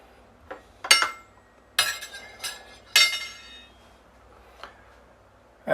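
Cutlery and a plate clink while air-fryer cinnamon French toast is served, a handful of sharp, close metallic and ceramic taps spaced over a quiet kitchen background.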